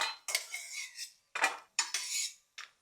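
A metal spoon scraping and clinking against a pan while cashews, almonds and pistachios fried in ghee are lifted out, in several short, close scrapes separated by brief silences.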